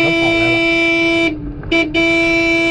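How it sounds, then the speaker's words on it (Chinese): A car horn sounds on a snowy day to call stray dogs for feeding: a loud, steady, close blare that breaks off briefly, then resumes. "我只要一按喇叭，他们就全来"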